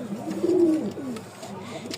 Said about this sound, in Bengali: এই দেখেন মাথা নষ্ট করা ডাক দেখে পাগলা করে দিছে